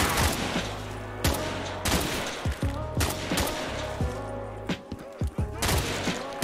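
Repeated bursts of automatic gunfire from a Call of Duty Zombies game, loud and close, firing in short volleys with brief gaps, over a steady game soundscape.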